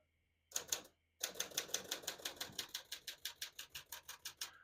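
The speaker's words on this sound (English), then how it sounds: "We're going to keep that on single for now and finish typing." A 1953 Smith-Corona Silent portable typewriter types at close range, with a brief burst of keystrokes, a short pause, then a steady run of crisp, evenly spaced key strikes in a quiet room.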